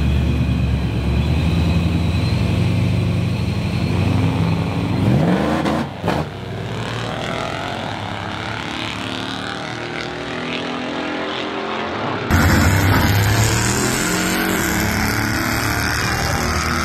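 A Jeep camper and an Airstream camper car race with engines revving loudly and continuously, rising and falling in pitch as the vehicles accelerate nearby, with a sharp shift in tone near the end and no talking.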